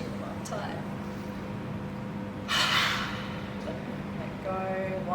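An inhale followed by a loud exhale through the mouth during a guided family yoga relaxation, the breath rising in a brief rushing burst midway over a steady background hum.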